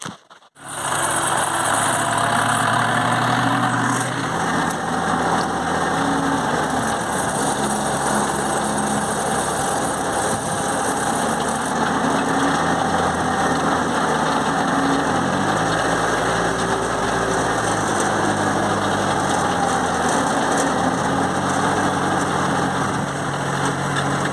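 A mini tractor engine fitted with a universal cultivator, weeding and hilling rows of corn in a field, runs at a loud, steady high-pitched drone close by, with slight shifts in load partway through.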